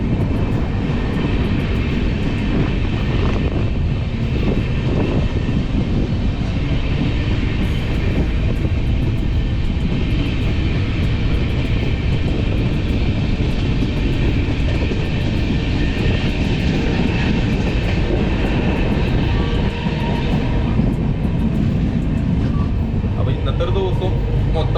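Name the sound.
train running, heard from inside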